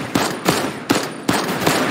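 Gunfire in the video game Fortnite, four sharp shots in an even rhythm about half a second apart, loud and close with no talk over them.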